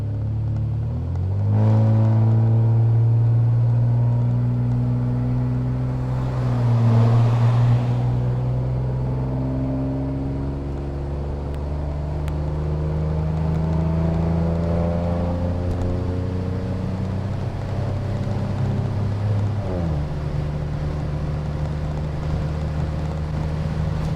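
A catless, straight-piped Ford Taurus Limited roars and drones steadily while being driven, its raw exhaust note rising and falling through gear shifts, loud and close from inside the car with no talking.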